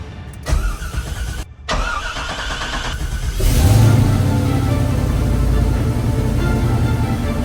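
A C5 Corvette engine cranks after a brief stop and start, then catches and settles into a loud, steady idle close by, with no talk over it.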